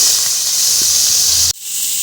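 Sliced onions dropped into hot oil with bay leaves for veg biryani, a loud close hiss of sizzling that cuts off abruptly partway through, then continues more softly.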